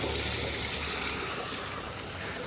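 Rainwater runs along a road and into a gutter during a morning downpour in Israel, a steady close rushing wash of flowing water that stays even and continuous throughout.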